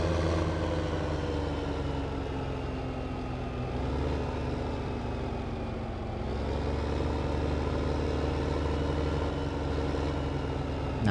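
Tractor engine in the Farming Simulator 15 game, a steady mid-pitched drone with a slight dip and rise in pitch partway through, loud and continuous with no talk.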